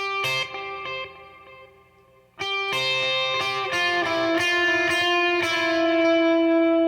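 Electric guitar notes ring out with long dotted-eighth-note delay repeats and a wash of reverb from a Dispatch Master pedal, a short gap, then fuller chords and melody sustaining loudly.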